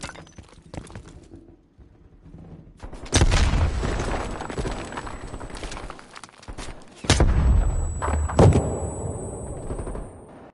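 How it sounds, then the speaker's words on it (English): A grenade blast in the Call of Duty: Black Ops Cold War video game, a loud booming explosion followed by a second heavy burst amid gunfire, alone with no talk. "Grenade!"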